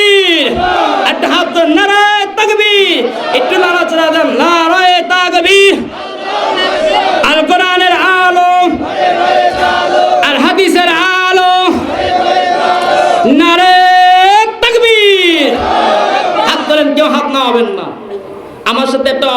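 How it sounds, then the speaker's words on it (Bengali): A large crowd at an outdoor religious sermon gathering chants Allahu Akbar in loud unison, bellowed responses rising and falling in repeated waves after a leader's calls, filling the space with voices. "কারা কারা চাই দুইটা হাত তুলে বলুন আল্লাহু আকবার। নারায়ে তাকবীর।"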